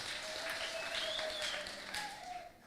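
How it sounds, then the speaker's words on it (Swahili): An audience claps for a priest, a dense, steady burst of applause lasting a few seconds before fading slightly, with no voices over it. "Tupigie Father wetu makofi."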